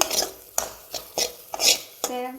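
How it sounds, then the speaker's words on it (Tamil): Sautéing jackfruit in a pan: a spatula scrapes and clinks against metal in quick irregular strokes, with a faint sizzle beneath. "பலாப்பழத்தை நம்ம லைட்டாக வதக்கி எடுத்துக்கலாம்"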